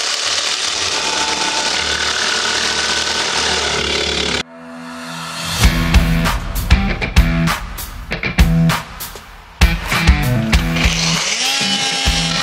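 A jigsaw cuts a ventilation opening for a heat-recovery ventilation unit in an expedition vehicle, with loud, bursty stop-start sawing in short repeated strokes following a steady machine hum at the start.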